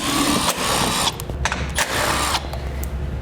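A power tool whirs in short bursts under a vehicle while backing out 10mm bolts holding the fascia to the subframe, loud and close with brief stops between runs.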